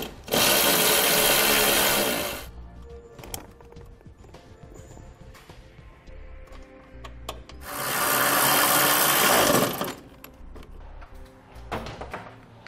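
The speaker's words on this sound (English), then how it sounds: "We'll just remove this factory ground bolt right here." A power tool drives out the 8mm factory ground bolt on a 2016 Ford Transit T350, whirring loudly up close in two bursts of about two seconds each, with quiet clinks and handling noises between them.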